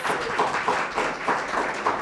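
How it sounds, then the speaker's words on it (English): Audience applause for the presenters at a summer accelerator final presentation event, a steady dense wash of clapping with no talk over it. "Another round of applause."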